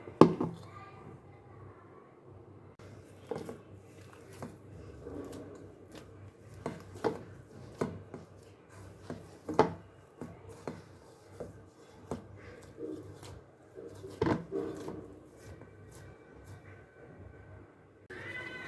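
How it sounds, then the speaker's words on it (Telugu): Chapati dough being kneaded by hand, with soft rubbing and squishing against a surface and occasional sharper slaps and taps, close and fairly quiet throughout with no talking. "ఇప్పుడు ఈ పిండిని బాగా కలుపుకోవాలి"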